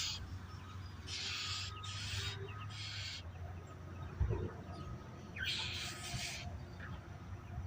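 Birds mobbing buzzards give repeated loud, harsh squawking calls in bursts from fairly close by, over steady outdoor background noise.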